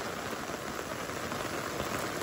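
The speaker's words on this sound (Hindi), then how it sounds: "बहुत तेज़ बारिश हो रही है यहाँ पे इस वक्त।" Heavy rain pours steadily onto an umbrella in the mountains, a dense, even hiss of drops close overhead that never lets up, with no voices.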